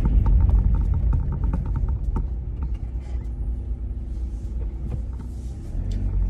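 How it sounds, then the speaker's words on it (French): Inside a car driving on snowy roads, a steady low rumble of engine and tires fills the cabin, with faint creaks and small knocks over the drone and no talking. "j'ai les deux mains sur le volant,"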